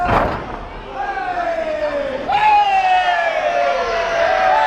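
An arena crowd at an NWF wrestling event in Burton, Ohio cheers and whoops for Pompano Joe. The roar stays loud and sustained, with rising shouts and a surge partway through.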